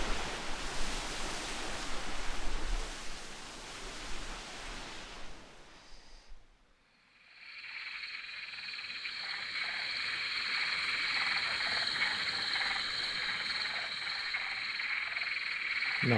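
Swamp ambience for a Unity game: a dense noisy wash fades to near silence, then a steady chorus of croaking frogs rises with bright trilling calls, continuous and fairly close.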